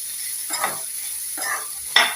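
Spiced potato fry (aloo fry) being stirred in a pan: three distinct scraping strokes over a steady, close sizzle.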